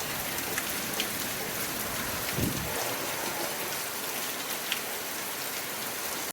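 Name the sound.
heavy rain falling in a village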